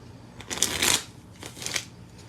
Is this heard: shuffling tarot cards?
yes